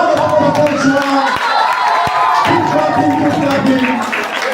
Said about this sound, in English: Please, a round of applause for Paul Chua.